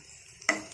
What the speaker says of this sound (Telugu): జీలకర్ర వేయించుకోవాలండి